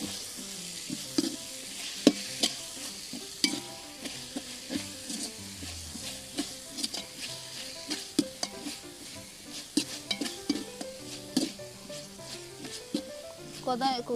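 Mint and coriander sizzling and frying in a pan with steady crackle, punctuated by scattered clinks of a spoon stirring.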